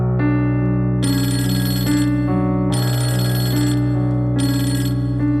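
A telephone rings in three loud bursts of bright electronic ringing, each about a second long with short gaps between, over a sustained musical backing with no talk.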